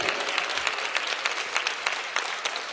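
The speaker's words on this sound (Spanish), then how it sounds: "Quiero escuchar un aplauso con fe para el Señor." A church congregation applauds steadily, dense clapping throughout with no pause.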